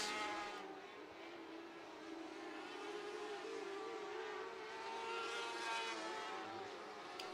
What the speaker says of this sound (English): we are green here for make it hot lap / qualifying for the California Lightning Sprint Cars